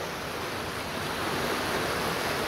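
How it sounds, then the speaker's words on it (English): Deer Brook in Epsom, New Hampshire runs high, a steady broad rush of flowing water that holds close and even throughout, with no voices. "I am not seeing a drought right here this minute on Deer Brook. We have a good flow."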